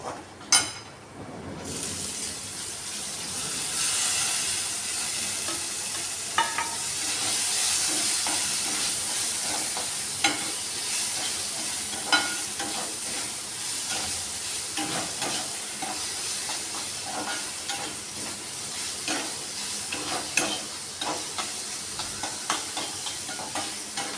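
Tomato cooking with spices such as garam masala in a hot pan, a continuous hiss of frying with regular scraping strokes from a stirring spoon, close and steady throughout.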